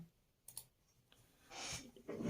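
A computer mouse clicking while a car's VIN number is copied: a couple of sharp, close clicks early on, followed by softer desk and handling noises.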